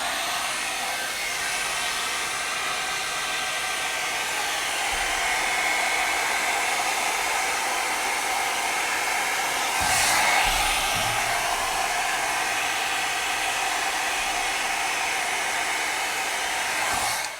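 Hair dryer running on its very lowest heat with the cool setting off while styling a cold set wig, a steady close whoosh that holds evenly throughout with a brief surge of airflow partway through.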